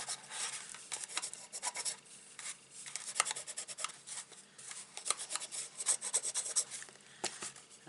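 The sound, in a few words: rubbing bone folder over paper gift box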